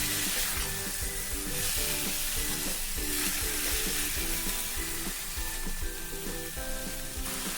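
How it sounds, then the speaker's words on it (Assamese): Sun-dried taro leaves are stirred in a frying pan, steady sizzling broken by rhythmic scraping strokes of a spatula, repeating roughly every half second, close and fairly loud throughout. "কচুখিনি অকণমান লৰাই ল'ম।"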